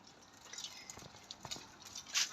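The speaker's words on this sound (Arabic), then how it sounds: "الماء يغلى" Water boiling in a pot gives off faint, scattered bubbling pops and small drips, close by and steady, with no voices.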